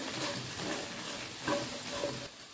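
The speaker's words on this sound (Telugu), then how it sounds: "ఉప్పు కారం వేసుకున్న తర్వాత కలుపుకోవాలి మొత్తం" Okra and potato fry sizzles in a pan while being stirred after salt and chili powder are added: steady close frying hiss with soft scraping stirs rising now and then.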